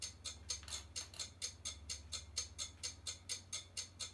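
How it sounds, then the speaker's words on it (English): A percussion clock tick-tock loop in a music beat: crisp, evenly spaced ticks at about four per second, steady and close over a low, soft bass hum. "This is like a percussion like clock loop that I added to make the drums sound a little more"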